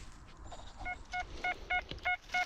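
A series of short, clear electronic beeps, about six in steady succession, rising from a faint hiss, the signal tone of a metal detector in a forest, marking a large buried object.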